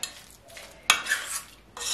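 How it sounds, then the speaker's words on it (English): A utensil stirs potato salad with chopped eggs in a bowl, giving a few short, close scraping and clinking strokes separated by brief pauses. "you just stir it around."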